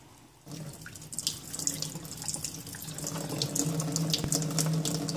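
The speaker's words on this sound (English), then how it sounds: "we're just going to give them a good rinse here" Mung beans being rinsed under cold running tap water: a steady, close gush of water that starts abruptly and runs continuously, growing slightly fuller toward the end, with no talking.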